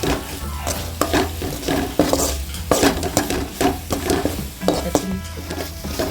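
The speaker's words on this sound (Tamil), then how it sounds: "மஞ்சத்தூள் மிளகாத்தூள்லாம் போட்டுக்கலாம் போட்டு நல்லா பச்சை வாசமாக வதக்கிக்கலாம்" Turmeric and chili powder sizzle in a pan for an egg curry while a utensil stirs and scrapes repeatedly, with rhythmic clinks against the metal.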